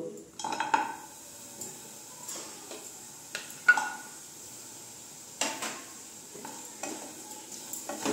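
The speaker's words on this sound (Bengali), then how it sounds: "আমি এখন এই কড়াইটার মধ্যে দিয়ে দিচ্ছি যে গুড়গুলো।" Jaggery is stirred as it melts in a wok for a Bengali pickle, with scattered scrapes and clinks of a utensil against the pan over a faint, quiet background.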